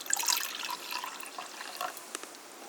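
Water is poured into a mug while iced tea is being made, giving a short, soft run of splashing and trickling that fades toward the end.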